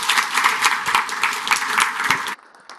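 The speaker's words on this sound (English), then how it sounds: "so another round of applause, please, for Amaury" Audience applause for a speaker at a D programming language conference talk, a dense burst of many clapping hands from a hall crowd that cuts off sharply near the end, with no talk over it.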